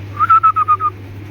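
Indian Madrasi pigeons for sale, giving a short run of about six clear, evenly spaced whistling notes close by over a low steady hum, no talking.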